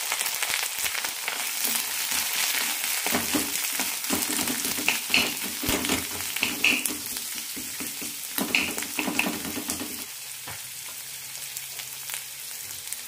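Sliced onions and curry leaves sauté in a teaspoon of oil, giving a close, lively sizzle broken by frequent stirring scrapes and clatters that ease off near the end.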